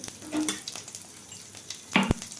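Whole cumin seeds sizzling in hot oil in a home kitchen pan, a steady crackling fry with occasional stirring clinks and scrapes, no one speaking.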